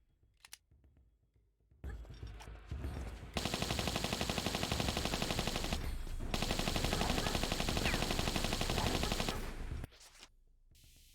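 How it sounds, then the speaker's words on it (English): Lara Croft's pistols fire in Tomb Raider III as a loud, dense run of rapid shots that holds for several seconds with a brief gap in the middle, then stops, leaving quieter game sounds. "I should probably not be using my pistols for this."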